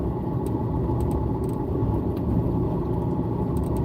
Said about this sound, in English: my car's pretty noisy, but then when you're going four-wheeling, it's like a little worse